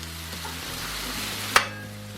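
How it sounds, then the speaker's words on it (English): Stray onion pieces fry on a hot griddle, giving a soft, steady sizzle with a low hum beneath and one sharp scrape or clack near the end. "Get them stray pieces of onion cooked up."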